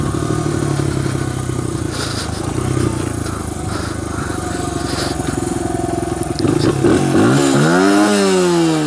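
A 2001 Honda XR100R motorcycle engine runs in a steady, rattly drone, then revs up and rises in pitch near the end, alone and fairly close.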